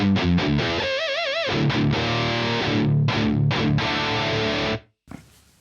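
Crunchy, overdriven electric guitar through an ENGL E653 Artist Edition 50-watt tube amp with a Plexi-style tone, playing a riff of chords and a wavering bent note, loud and close, then abruptly cut off into near silence.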